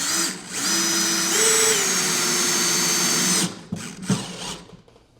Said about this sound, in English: now I'm gonna just put some screws in to hold this little cleat